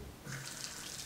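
A small splash of water is poured into strawberries and sugar for a coulis, making a brief, faint pouring trickle that lasts about a second with no voices.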